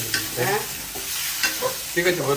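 Fish frying in a pan, a steady close sizzle with the scrape and clack of a spatula turning pieces now and then.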